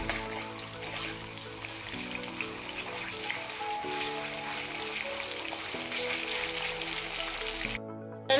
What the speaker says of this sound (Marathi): आलं लसूण पेस्ट तेलामध्ये व्यवस्थित परतून घ्यायची आहे